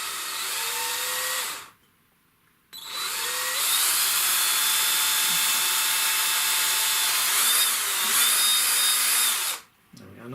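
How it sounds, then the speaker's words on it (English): A 3mm drill bores into the plastic side of a Polaroid IR light, a loud high whine running in two long bursts with short silent breaks between, close up and with no voices over it. "I've got a 3mm drill, and I am just going to drill a little hole straight into the side of this"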